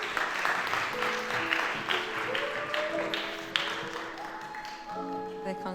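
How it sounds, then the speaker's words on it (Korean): An audience at a Sunday youth church service claps in welcome, a steady patter of applause over soft background music. "여러분 박수로 환영해 주시면 감사하겠습니다."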